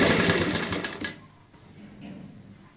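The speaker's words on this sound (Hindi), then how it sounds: "यहाँ पे वैसे सिंगल फुट अपने आप ही इस जिप को पलट लेता है, सिर्फ हमें ऐसे सिलाई लगानी है" A sewing machine stitches an invisible zip into a kameez or kurti, giving a fast close whirring run of stitches that stops after about a second, followed by faint handling noise.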